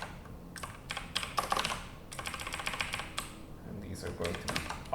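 Close, steady typing on a computer keyboard, rapid clicking keystrokes in several bursts separated by brief gaps, with no talking.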